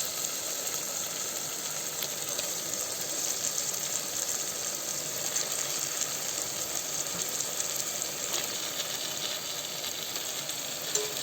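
Chicken going into hot masala inside a pressure cooker for biryani, setting off a steady, close sizzle and frying hiss that runs evenly the whole time, with faint stirring and no voices.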